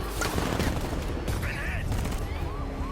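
Automatic gunfire from soldiers in the Batman: Arkham Knight game, a sustained rattling barrage with mechanical clanks and whizzing effects layered through the busy mix.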